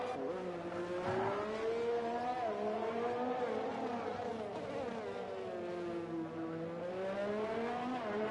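A race car engine drives a fast lap around the Azerbaijan circuit in a racing game, one steady close howl whose pitch climbs and dips with each gear change over the whole stretch, with no talk.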